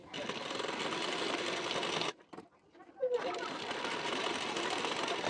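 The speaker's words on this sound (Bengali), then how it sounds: "নেবার পর আবারও একটা ফোল্ড করে এর উপর থেকে মেশিনে সেলাই দিয়ে নেবেন" A sewing machine stitches a folded blouse strip in a close, continuous buzz, pausing briefly for about a second before resuming just as steadily.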